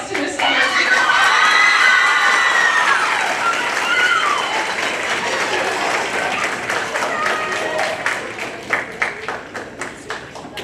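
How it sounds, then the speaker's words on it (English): Audience applause and cheering, with children shouting, fill the room at a theatre awards ceremony. The crowd is loud and dense at first and then eases toward scattered clapping near the end. "please join me in giving a round of applause to Miss Sabrina."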